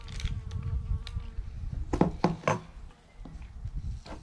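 A bee buzzes around close by outdoors during a meal-ready-to-eat tasting, its drone rising and fading in short passes over low rumbling background noise.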